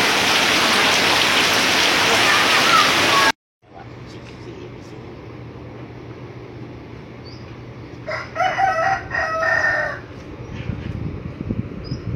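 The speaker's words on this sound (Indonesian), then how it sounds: "Hujan deras, saudara-saudara." Heavy rain pours down at a film shooting location, a loud, dense downpour for the first few seconds before an abrupt cut to a much quieter scene with softer background noise and brief voices.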